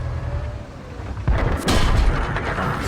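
Tank cannon fire in World of Tanks on the Paris map: a quiet, rumbling background, then two heavy booming shots about half a second apart, loud and close, with a lingering roar after.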